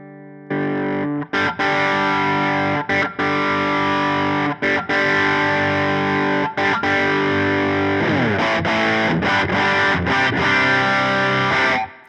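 Electric guitar played through a J Rocket Dude Dumble-style overdrive pedal, a warm, driven tone ringing out in sustained chords and phrases with brief breaks, loud and close, no talking.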